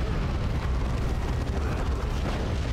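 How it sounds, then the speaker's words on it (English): A melta bomb goes off against a vehicle in Warhammer 40K: Dawn of War 2 Chaos Rising, a dense, roaring blast that stays loud and rumbling throughout. "shove another melt bomb of its tailpipe"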